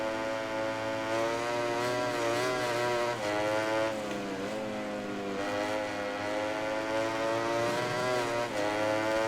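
Ducati MotoGP race bike in the MotoGP 19 video game, its engine a steady high-revving drone with rising and falling pitch through gear changes, loud and continuous without talk.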